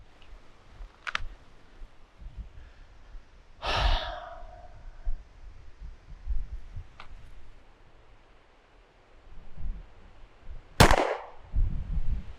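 A single sharp pistol shot cracks out during target practice, with a softer impulsive bang earlier, surrounded by quiet breathing, sighs and low rustling in an otherwise calm setting.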